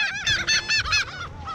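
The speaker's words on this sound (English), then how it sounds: "UFC bird fight." Birds fighting over fish skin on an island shore, honking close and loud in a rapid burst of four or five harsh goose-like calls.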